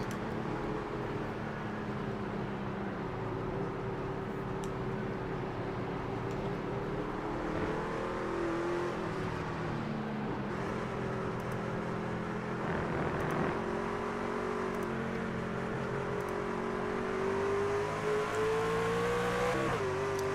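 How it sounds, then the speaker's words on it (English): Race truck engine at Lime Rock during an ARCS Saturday night truck series race, droning loud and steady as the driver gets back on the throttle, pitch rising through the final seconds with faint other engines behind. "You can hear him get back on the throttle,"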